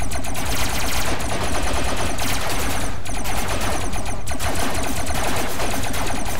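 Vehicles in the video game RoboCraft fire continuously, a loud, dense stream of rapid electronic gunfire with an underlying hum and no pauses throughout.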